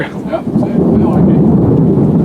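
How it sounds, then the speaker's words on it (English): Thunder from a storm in the Arizona canyon country rumbles loud and low in one sustained roll, while a person speaks briefly over it. "There's the thunder."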